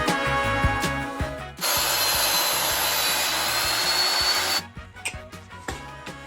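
A power saw cuts wood strips for marquee letters, a loud harsh burst of about three seconds between quieter mechanical clicks and knocks from the workshop.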